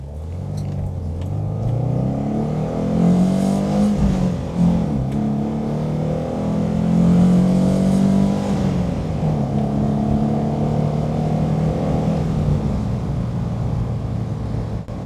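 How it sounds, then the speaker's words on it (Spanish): An Alfa Romeo 105 Giulia engine revs up through the gears, its intake noise dominant over the exhaust; rising and falling engine tones climb in pitch, drop at each shift, then climb again, loud and close from inside the car. "Es principalmente el ruido de la admisión, para ser honesto."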